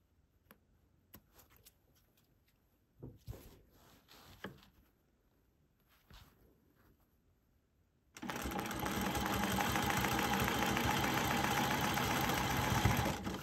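A quilting sewing machine starts after a few faint handling clicks and taps, then runs in a loud, steady, fast stitching whir that continues to the end.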